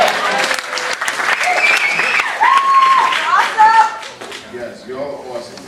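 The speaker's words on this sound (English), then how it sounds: "Clap for yourself." A crowd at a Chuck D event in Seattle claps loudly and steadily, mixed with whoops, cheers and overlapping voices as the applause gradually softens.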